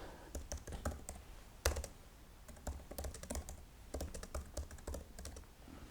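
Fingers type a short description on a computer keyboard, producing close, irregular bursts of key clicks with brief pauses and one louder keystroke, no talking over them.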